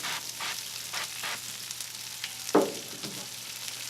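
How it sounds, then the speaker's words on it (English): Wagyu brisket burgers sizzle in duck fat on a grill with a steady close frying hiss, a few scrapes and one brief louder spit near the end. "They smell amazing, and they're just sizzling up perfect here."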